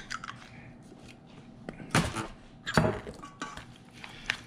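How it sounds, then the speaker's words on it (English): Ahi poke being stirred together with soy sauce and oyster sauce in a bowl gives a few scattered clinks and wet scraping knocks, with two louder clatters in the middle and a final tap, close and fairly quiet. "And you mix that all together."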